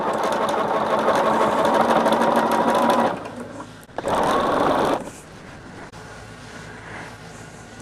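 Sewing machine stitching binding onto a quilt: a loud, steady motor hum with a fast needle chatter that runs about three seconds, pauses, then returns in a second one-second burst before a quieter background hum.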